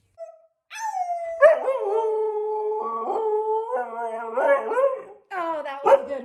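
A dog howls in long, wavering, sustained cries with rising and falling pitch, repeated several times over a few seconds, loud and close, with only brief pauses between howls.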